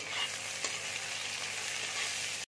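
Capsicum with red and yellow bell peppers stir-frying in a pan, giving a loud, continuous close sizzle with a single stirring knock before it cuts off abruptly.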